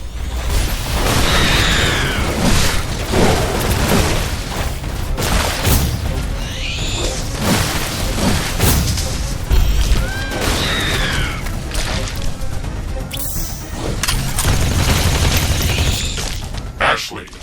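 Booming explosions and rattling gunfire roll continuously through a base-defense battle in The Riftbreaker, loud and dense, with crashes and bursts layered over music and spoken game announcements.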